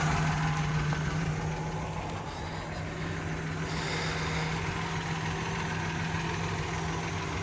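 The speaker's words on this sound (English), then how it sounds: "they have mechanical lifters, so that engine noise is normal. That's how they all sound." A 1964 Dodge A100 van's slant six engine idles with normal mechanical lifter noise, a steady close hum with a faint ticking texture over a constant low drone.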